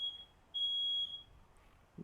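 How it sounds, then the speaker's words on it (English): A smoke alarm gives two short electronic chirps, the second a little longer, faint and indoors with quiet room noise between. "That's a fire alarm."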